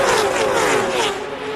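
Race cars roar past on a racetrack at a 300-lap stock car event, a loud, dense engine wash with a falling pitch sweep as the lead pack goes by.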